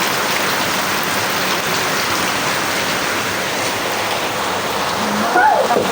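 Steady, dense rainfall pours down with a constant broadband hiss, loud and close throughout, with a faint voice briefly audible near the end.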